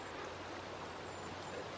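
A river streams steadily past a campsite along a grizzly's fishing stretch, a continuous faint broadband rush of water with no breaks and no voices.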